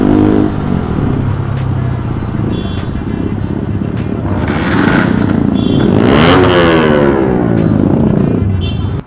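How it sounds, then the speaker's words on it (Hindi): A Honda 110cc motorcycle ridden on the road among other bikes, engine droning steadily close by, with rising passes of vehicles and some scraping clatter as the ride goes on. "होंडा की जो अपना बाइक होती है 110 सीसी वो चला रहा है बंदा"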